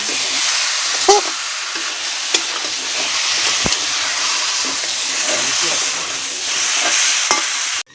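Colocasia curry with khoira fish sautéing in a pan, giving a loud, dense, steady sizzle and hiss throughout, with a few faint spatula taps, ending abruptly.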